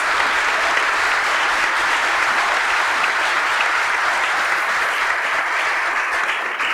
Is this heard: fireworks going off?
no